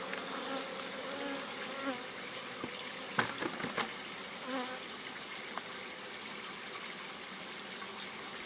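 Dense buzzing of many honeybees at a hive fills the air close by, a steady hum with occasional small clicks and knocks.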